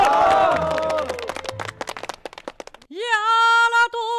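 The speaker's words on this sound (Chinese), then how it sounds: "掌声鼓励。" A staged gathering's audience breaks into a brief patter of applause that fades, between a voice and the opening of a sung folk tune.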